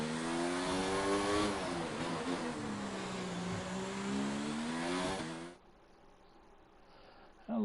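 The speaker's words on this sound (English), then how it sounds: "Oh, engine audio." The race car engine from a racing video game drones loudly with a rising and falling multi-harmonic whine for about five seconds, then cuts off abruptly into near silence.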